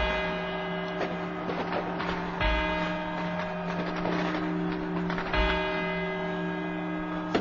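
Deep, resonant clock bells strike the four quarter chimes in a slow sequence, each tone ringing and overlapping the last over a steady low hum.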